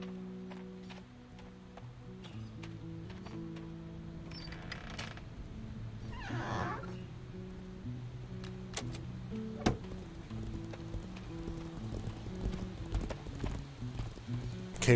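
Horse hooves clip-clop in the fantasy online game Legends of Aria, a steady trotting patter that carries across the clip under low game ambience and scattered clicks.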